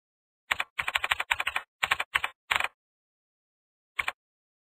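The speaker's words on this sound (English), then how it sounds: "Here you can type whatever you want to appear in the start menu." Clicking keystrokes on a computer keyboard, typed in quick clustered bursts for about two seconds, then a pause and one last short burst, close and clear with no talking.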